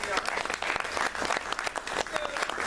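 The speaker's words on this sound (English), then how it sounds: "let's give ourselves a round of applause" An audience at a motivational keynote breaks into steady, dense applause of many hands, loud and continuous throughout, with voices faintly mixed in.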